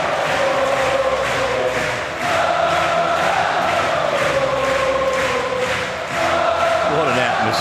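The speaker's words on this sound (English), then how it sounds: "What an atmosphere inside the stadium here." A stadium crowd roars and chants at a Paris para badminton men's singles SH6 final, a loud sustained din of cheering with rhythmic surges.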